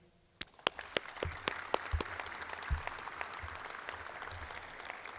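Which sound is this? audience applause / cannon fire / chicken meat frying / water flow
audience applause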